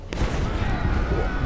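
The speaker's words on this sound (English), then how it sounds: "A explosion just happened as soon as I walked." An explosion in the video game Deus Ex: Mankind Divided, a sharp blast at the start that rolls into a dense rumbling roar and crackle, loud and close, with game sounds mixed in.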